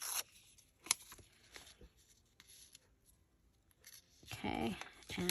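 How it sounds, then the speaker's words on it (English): Paper torn by hand for a junk journal: a quick rip at the very start, a few faint rustles, then a longer, louder tear close to the microphone near the end. "once I rip it, I kind of want to rip in all the places. So I'm going to go there, and we'll rip right here."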